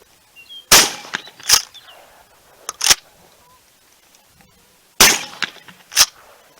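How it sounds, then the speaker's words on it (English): A Stevens 320 pump-action shotgun fires light loads at a range as the magazine is emptied, five sharp loud close shots spaced unevenly with quiet gaps and pump clatter between. "And we're emptying the magazine."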